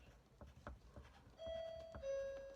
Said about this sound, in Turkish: Bizim zil böyle arkadaşlar.